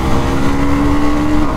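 A 2024 KTM Duke 250 motorcycle engine drones loud and steady while riding under a quickshifter upshift from third gear, a dense continuous roar with a sustained tone throughout, with no talk.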